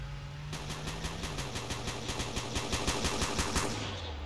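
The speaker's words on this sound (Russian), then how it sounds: "Тут, короче, опять стрельба какая-то, как всегда." Rapid automatic gunfire in the Roblox roleplay game Blackridge RP, a steady burst of evenly spaced shots lasting about three seconds over a low droning engine hum.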